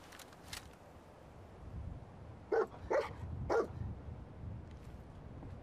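Dog barking in the Fallout 4 video game: three sharp barks in quick succession, moderately loud over a low, steady game background, with no talk.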